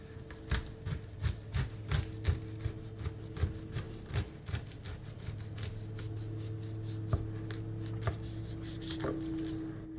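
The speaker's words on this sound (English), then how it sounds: "We're just gonna go around and cut the rind off just like this" A knife cuts the rind off a pink pineapple in a home kitchen, making a run of close, rhythmic slicing and chopping taps early on, then steadier scraping cuts over a low background hum.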